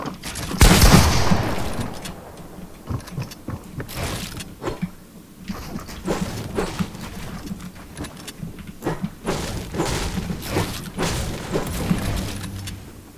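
Rapid video-game gunfire in a Fortnite box fight, with bursts of sharp shots and building sounds repeating throughout over a steady game background.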